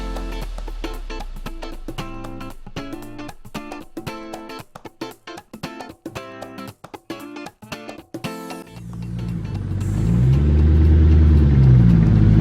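Cars being started and driven to move them out of the way at a property with Subaru SVX cars, a choppy run of mid-pitched engine sound giving way to a louder, low rumbling engine near the end.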